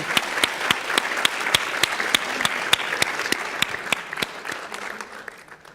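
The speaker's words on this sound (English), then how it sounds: "Let's give him another round of applause." An audience claps steadily, a dense patter of hands that gradually thins and fades toward the end.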